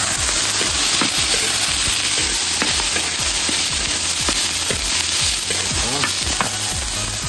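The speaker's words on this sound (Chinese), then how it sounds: "加点 麻椒， 麻椒稍微一点，够啊，一点就够啊。 好嘞，炒一炒啊。" Sichuan peppercorns and star anise stir-fry in hot oil in a wok, with a loud, steady sizzle and crackle and scattered popping and scraping throughout, and no voices.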